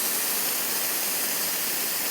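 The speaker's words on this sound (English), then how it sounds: "Got the no burn steam wand." A Rocket espresso machine's no-burn steam wand, 2017 model with a wider valve, giving off a loud, steady, close hiss that continues unbroken throughout.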